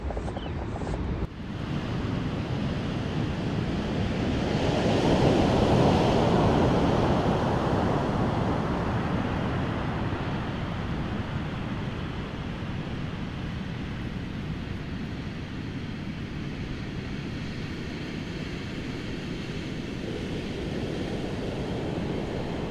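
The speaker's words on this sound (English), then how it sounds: "This is one of my favorite beaches ever." Ocean surf rolls onto a loose-sand beach near Ferndale, a broad continuous roar that swells around the middle and then settles, with wind buffeting the microphone and no one speaking.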